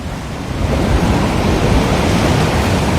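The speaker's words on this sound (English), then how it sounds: "When the waves are really active like this, way out there" Ocean surf breaking on the shore at Waikiki, Hawaii, a continuous broad roar of waves that swells after the first half second and holds steady and loud, with no voices.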